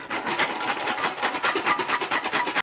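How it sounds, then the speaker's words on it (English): Roasted hazelnuts are shaken hard between two bowls to strip their skins, giving a loud, close, continuous rattling rasp in quick rhythmic pulses that stops abruptly, with no talk. "A good trick for this is to just put them into a bowl, cover it with a second bowl like this"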